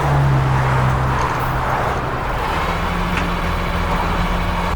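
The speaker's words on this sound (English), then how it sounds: "So there's the Caravan on its way" Tow truck hauling a caravan away, a loud steady engine drone with low rumble filling the whole stretch, no voices.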